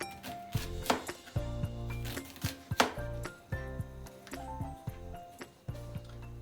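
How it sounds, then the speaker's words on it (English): Onions being chopped finely with a knife for Guyanese highwata fish choka, sharp irregular taps of blade on board with a faint tonal hum in the background. "we're gonna cut our onions nice and fine so it can be distributed nicely into the sardine"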